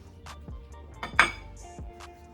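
Utensils clink softly against a salad bowl while a watermelon basil salad with cucumbers is mixed, a few scattered light taps and knocks in a quiet room.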